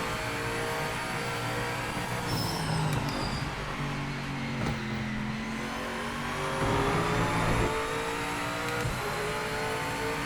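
A race car in the Project Motor Racing video game drives with traction control switched off. The engine drones loudly and its pitch rises and falls through revs and gear changes.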